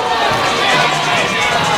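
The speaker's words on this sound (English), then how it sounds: "Listen to this crowd" Crowd roaring at a high school semi-final football game between Peabody and Waverly after a touchdown catch, a loud, steady wash of cheering and noise that fills the whole moment without a break.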